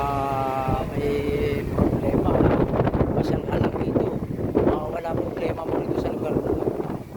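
Strong wind roars steadily across the microphone at the Bugarin View Deck in Pililla, Rizal, a loud continuous buffeting rush with brief tonal sounds at the start.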